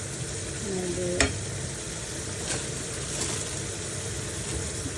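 Home cooking with food frying and a utensil stirring in the pan, a steady sizzle carrying throughout with a couple of brief clinks from the stirring, close and moderately loud, no talking.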